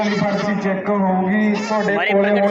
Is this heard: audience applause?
no